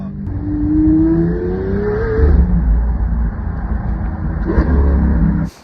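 A car engine revs hard and accelerates close by, its pitch climbing smoothly before dropping back to a loud, rough rumble that holds steady, with a second brief burst of revving toward the end.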